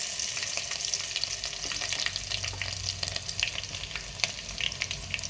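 A tempering of crushed garlic cloves and lentils fries in hot oil, a close, steady crackling sizzle with scattered pops and light stirring scrapes throughout, no voices.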